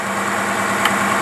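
An engine on a test stand fitted with a Holley 4776 double-pumper 600 CFM carburetor runs with a loud, steady mid-range drone, close and continuous, no voices.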